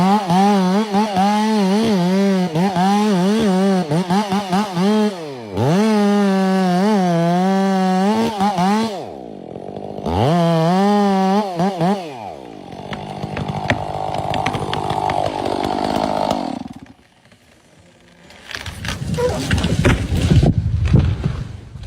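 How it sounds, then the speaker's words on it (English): A chainsaw revs up and down in loud, rising and falling bursts, then bites steadily into a large tree trunk with rough, grinding noise, followed by a final heavy, roaring cut. "a strong female worker operates a chainsaw, cutting into a large tree trunk"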